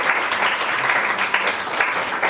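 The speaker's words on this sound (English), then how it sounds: "Everybody clap for Rachel." A small group of people at a chapter meeting claps steadily for a newly chosen chapter president, a dense, even patter of hands close by that fills the moment without any voices.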